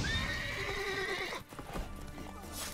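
Horse neighing and hooves clopping from a horse enemy in the video game The Witcher 3: a loud whinny rises over the first second and a half, then scattered hoof clops and a fainter neigh follow over steady game ambience.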